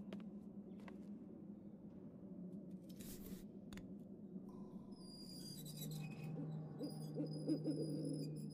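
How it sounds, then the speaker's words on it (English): A Harfang owl hooting in Syberia II, soft low hoots repeating over a quiet, tonal game background with faint clicks and chimes, no voices. "Strange bird, this Harfang."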